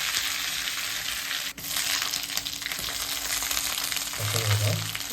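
Cumin, fennel and curry leaves fry in a pan with a steady, dense sizzle that holds loud and close throughout, and a brief stirring thump comes near the end.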